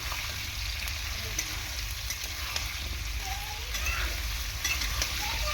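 Small shrimp fry in a pan for a bottle gourd shrimp curry, a continuous close sizzle and crackle with occasional spatula scrapes and no one speaking.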